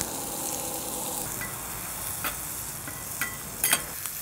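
Chopped garlic sizzles steadily in hot oil on a Feuerplatte griddle plate, a continuous close frying hiss with a few brief louder crackles and spits near the end, no voices.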